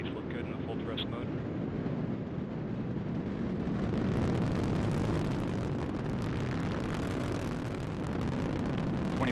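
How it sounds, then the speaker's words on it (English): Delta IV Heavy rocket launch carrying NASA's Parker Solar Probe in August 2018, a loud continuous roar with crackling rumble that fills the whole stretch and swells slightly after a few seconds. "Delta IV Heavy rocket with NASA's Parker Solar Probe, a daring mission to shed light on the mysteries of our closest star, the Sun."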